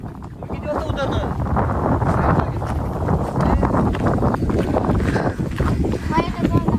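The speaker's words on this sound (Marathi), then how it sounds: "हे एक नंबर असली खतरनाक वारा सुटलाय ना डायरेक्ट" Strong wind roars and buffets the microphone in steady gusts at the top of Kothaligad fort, while a person talks over it throughout.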